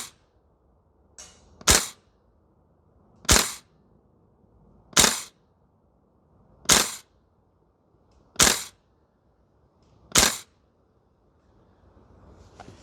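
Six sharp, evenly spaced shots from a VFC URGI V3 gas blowback airsoft rifle, each a crisp crack with a short decay, fired one at a time roughly every second and a half outdoors with quiet gaps between.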